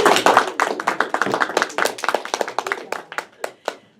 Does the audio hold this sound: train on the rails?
no